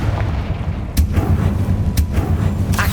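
Confringo spell explosions in Hogwarts Legacy: sharp, booming blasts land about once a second, loud and close, layered over a dense low rumbling game backdrop.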